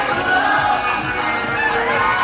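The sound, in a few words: crowd cheering at a match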